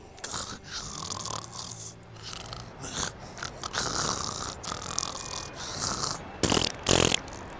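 A character in the video game GTA 5 snores in a series of rough, raspy breaths with short gaps, close and fairly loud, ending in two stronger snorts.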